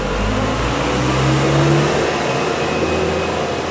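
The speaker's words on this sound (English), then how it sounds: "rather than doing another dentist video, I thought I'd wait till the truck goes past" A truck drives past on a street in Thailand, its engine a steady rumbling drone with a rising, then easing tone, loud and close throughout with no speech.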